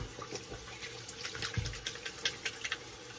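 A bathroom tap runs water into a sink during a wet shave, a splashing stream with small gurgles and drips that swell and ebb over a few seconds.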